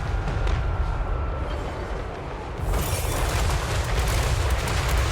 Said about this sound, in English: Set the Dragon Breath Gunners up on fire at will, so they'll start blasting as soon as the enemy gets close.